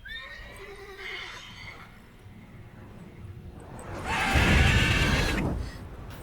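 A horse in The Witcher 3 gives a loud, drawn-out neigh that swells and fades near the end, after quieter game sounds and a faint earlier whinny, with hoof clops in the background.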